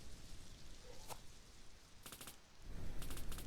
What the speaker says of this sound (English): Let's shoot down this zombie.